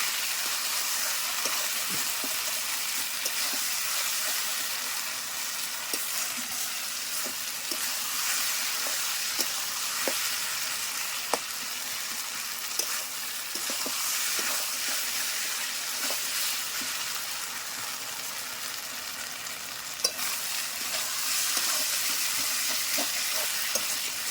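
Spiced mutton masala fries in a pan with water just added, giving a steady, dense sizzle and hiss throughout, broken by occasional light scrapes and clicks of stirring. No voices.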